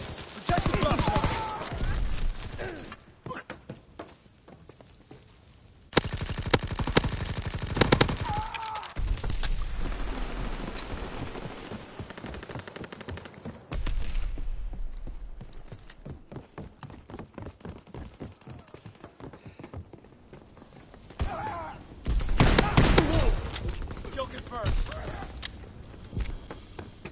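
Gunfire and an artillery barrage in Call of Duty WWII: dense bursts of shots and heavy booms rise and fade in waves across the scene, with game voices and chatter mixed in.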